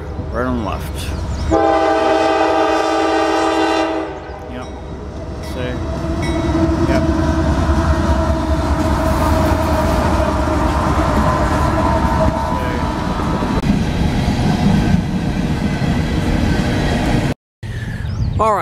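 A train rumbles past close by, its horn sounding loudly early on, followed by a long steady roar of wheels and cars rolling along the tracks.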